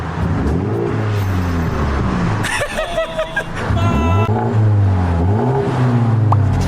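A deep car engine drone hums steadily with rising and falling revs, played through the car's speakers in sport mode, while a voice and brief laughter come through midway.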